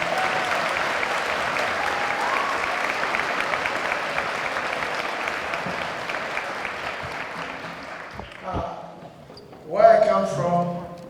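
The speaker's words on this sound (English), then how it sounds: "Another great round of applause for these drummers," An audience applauds young drummers after a drumming ensemble performance, sustained clapping that thins and fades toward the end, where a voice begins speaking.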